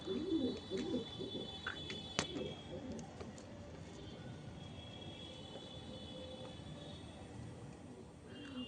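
Fulsira, Kalanka and Madrasi pigeons at a home loft coo in low, throaty bursts near the start, then fainter calls over a steady outdoor hum with a few sharp clicks.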